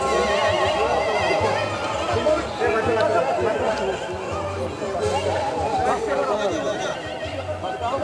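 Horses whinny and snort over a constant hum of crowd chatter, with people talking throughout.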